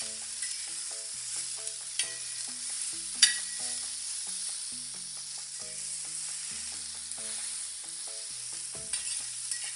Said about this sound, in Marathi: टोमॅटो आपल्याला शिजू द्यायचे